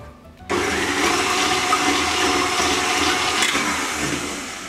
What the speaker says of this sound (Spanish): Lo primero que vamos a hacer es batir las claras.